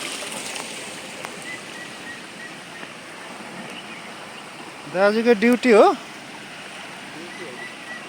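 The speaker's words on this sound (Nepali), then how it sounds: "पानीको बहाव" Water at a dam intake tank on the Khardu Khola near Dharan gives a constant, soft, broadband rush throughout, with someone speaking briefly partway through.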